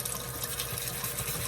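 Warm tap water runs steadily over a cup as it is rinsed, a continuous close splashing hiss with no voices.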